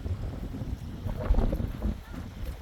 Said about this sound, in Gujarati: સામે ભાઈ પવન જગી ફરે છે.